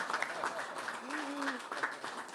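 An audience claps in applause at a ceremony marking the start of construction on MFA Noord, with uneven clapping that continues under a voice speaking and some tonal sounds in between.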